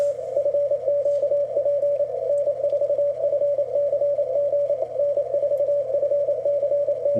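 Morse code radio station heard through a narrow 250 hertz receiver filter: a single clean, steady tone keying rapid dots and dashes continuously, loud and isolated with a faint low hum beneath.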